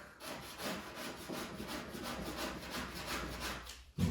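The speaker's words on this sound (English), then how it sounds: "So let's get to sanding this. I have a little block sander here." Rhythmic back-and-forth scraping of a hand block sander on the wood of a mid-century modern dresser, a steady series of rasping strokes at close range, fairly quiet with no talking.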